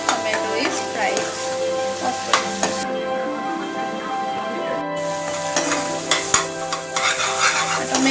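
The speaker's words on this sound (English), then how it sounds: "Stir it for some more time till the tomato is fried." Tomato and grated ginger fry in oil as a spatula stirs them, giving a loud, close, continuous sizzle with scraping strokes and a few clinks against the pan. A faint hum runs beneath and no one speaks.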